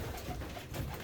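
Pigeons coo softly in a loft, a brief, faint run of low, throaty, burbling calls with a quiet background hiss.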